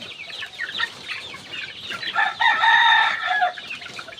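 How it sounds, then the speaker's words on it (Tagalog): Oriental-breed chicks of hulo and asil lineage peep and chirp in a busy cluster, with clucking fowl and a brief crow-like call, growing louder and denser in the middle; no talking. "Meron din dito tayong mga sisiw na mga may lahing oriental chicken, yan, mga hulo o sa asil."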